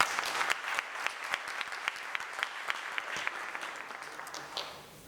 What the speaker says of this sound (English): I invite your applause.